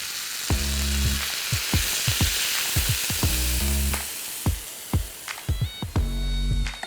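Cider poured into a hot pan of chicken fricassee with truffled mustard hisses into a loud, continuous sizzle, broken by repeated scraping and stirring knocks, with no talking.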